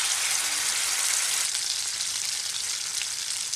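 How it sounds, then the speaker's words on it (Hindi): Spice paste for a masala egg curry frying in oil in a pan over low heat, a dense, even, close sizzle that holds steady without pause or voices. "धीमी आंच पर मसालों को भून लें"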